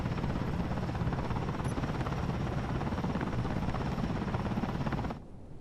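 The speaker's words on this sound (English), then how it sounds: "Don't mind the helicopter noises." Steady, dense rotor drone of a helicopter in the space game Space Engineers, loud and continuous for about five seconds before cutting off abruptly to quieter background hum.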